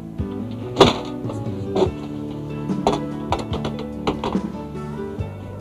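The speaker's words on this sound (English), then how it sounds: "The door sets into place easily by first releasing the retaining straps and spring pin clip at the base of the door, then lowering it into position." A 2002 Coleman by Fleetwood pop-up camper door released from its straps and spring pin clip and lowered into position, giving a series of close knocks, taps and thunks with a rattling metallic clunk near the start.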